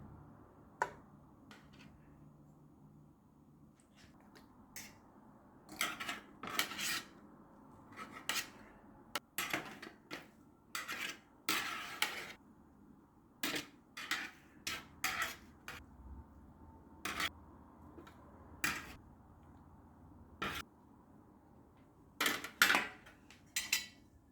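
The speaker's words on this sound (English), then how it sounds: "I'm gonna place all of these good things there." Sliced zucchini and eggplant set piece by piece into an open pan, a sparse series of soft clicks and light scrapes with quiet pauses between them, close and fairly faint.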